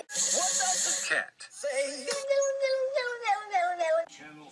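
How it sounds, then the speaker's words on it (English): A cat meows up close, several loud, drawn-out, wavering cries following one another with short breaks between them. "Cat."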